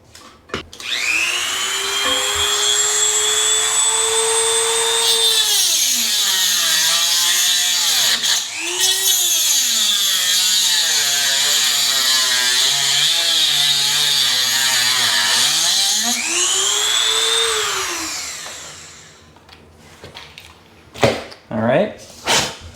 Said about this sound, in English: the Dremel makes that a lot easier. So I'm just going to take this now and I'm going to cut it off